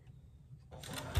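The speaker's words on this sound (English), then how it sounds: "I like to go ahead and top stitch using that as my seam allowance." A sewing machine top-stitching a minky baby blanket starts up partway through, a short close mechanical whir rising out of near silence.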